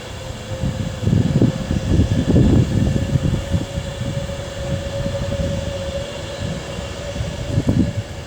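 A passenger train bound for London Euston rolls past at a steady, continuous rumble, with a sustained tonal whine running throughout and louder surges near the start and end.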